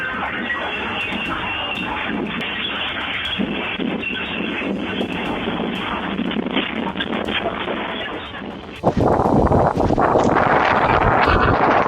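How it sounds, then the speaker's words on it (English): Strong wind roars across an outdoor restaurant in a steady, loud broadband rush with buffeting on the microphone, then surges sharply louder and harsher near the end as gusts hit. "An outdoor restaurant witnesses strong wind, completely changing the atmosphere"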